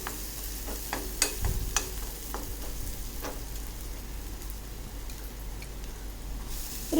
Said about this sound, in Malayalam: ഉള്ളി ഒന്ന് വഴണ്ട് വന്നിട്ടുണ്ട്